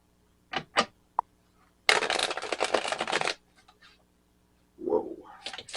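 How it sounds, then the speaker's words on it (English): A deck of cards riffled in one brisk burst of rapid flutter, preceded by a few soft taps and followed by a brief voice. "I don't know why I'm shuffling."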